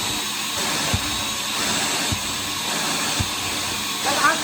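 A Vacmaster household wet/dry shop vac runs continuously with a loud, even broadband whoosh and whine, broken by a few soft knocks as the hose moves.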